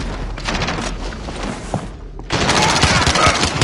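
Rapid gunfire in Call of Duty Warzone, dense close-range bursts and automatic fire with a brief lull before a louder, sustained volley.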